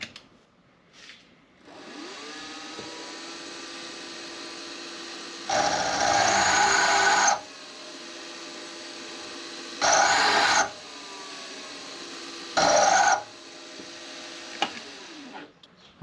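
A milling machine chamfers the second side of a metal clamp part for a tool holder, its motor whining steadily while three louder bursts of cutting, one long and two short, rasp over the hum before it spins down.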